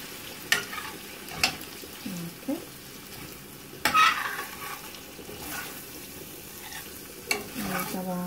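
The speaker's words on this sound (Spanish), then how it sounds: "Ahorita que se empiecen a cocer los chiles, yo los desbarato ahí adentro con la cuchara." Chiles cook in a pan for chipotle pork chops, a soft, steady sizzle broken by repeated knocks and scrapes of a spoon breaking them up, with several sharp taps against the pan.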